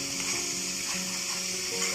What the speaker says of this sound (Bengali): দেখুন মশলাটা আমি ভেজে নিচ্ছি ভালো করে।